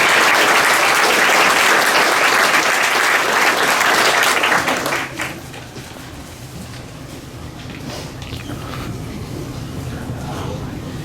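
Graduation ceremony crowd cheering and applauding loudly for about five seconds, then fading into a softer murmur of scattered clapping and ambient hall noise.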